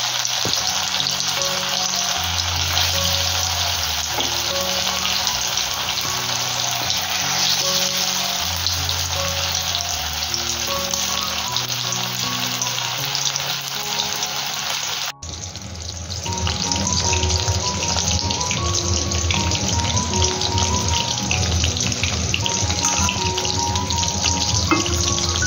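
Several chicken lollipop pieces deep frying in hot oil in a kadhai, a loud continuous close hiss and crackle with a brief dip midway, background music running under the sizzle and no talk.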